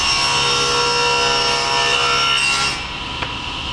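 A wooden board is fed through a saw cutting a dado, giving a steady, loud, continuous sawing roar that runs unbroken and then drops slightly toward the end, with no talking.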